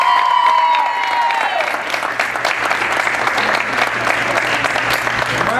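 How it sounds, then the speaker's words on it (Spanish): A crowd at a volleyball program orientation at a YMCA in Lawrence applauds the team, loud steady clapping that swells after a brief sustained tone at the start, with faint voices mixed in. "¡Aplauso para ustedes!"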